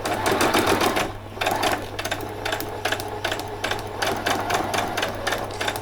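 Sewing machine running a steady stitch along the edge of fabric for a Christmas party dress, with a fast, even mechanical chatter and a low motor hum, close and continuous with brief changes in pace.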